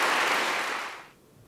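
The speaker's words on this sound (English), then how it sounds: "Big round of applause, please." Audience applause closes a lightning talk at the EuroPython 2018 conference: a loud burst of clapping that fades out within about a second.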